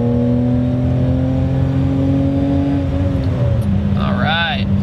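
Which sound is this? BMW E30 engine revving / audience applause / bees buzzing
BMW E30 engine revving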